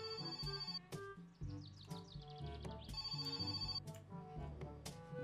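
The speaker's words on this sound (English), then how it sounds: "Is that a fucking phone call?" In the My Summer Car video game, a phone rings with a bright, repeating electronic tone. It plays continuously and fairly loud, with music-like layers and a voice briefly underneath.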